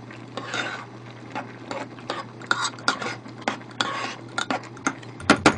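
A pot of rice boils on the stove, bubbling and rattling, with repeated clinks and scraping stirs at an uneven rhythm, close and clear, no talking.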